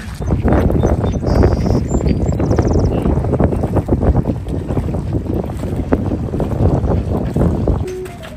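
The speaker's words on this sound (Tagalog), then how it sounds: "Hangin no? Hangin." Strong wind buffets the microphone outdoors in New York on a fresh morning, gusty and loud throughout, with brief faint sounds in the background.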